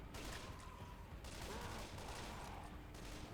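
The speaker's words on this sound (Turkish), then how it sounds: "Kendi takım arkadaşını vurdum." Dense rattling gunfire from the zombie shooter game Left 4 Dead 2, a continuous loud fusillade of overlapping shots filling the whole stretch.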